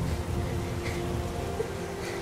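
Steady rain falling in the Heavy Rain video game, a dense continuous hiss with low rumbling underneath, moderately loud and without speech.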